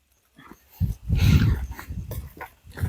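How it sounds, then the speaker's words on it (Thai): A dog barks and growls nearby outdoors in a short run of rough, loud bursts, with faint rustling before it starts. "โอ้หมา มาเห่าถึงนี่เลย"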